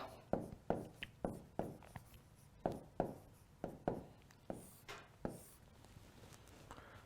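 Chalk or marker writing on a board, a series of short scratchy strokes in uneven bursts with brief pauses between them, close and fairly quiet.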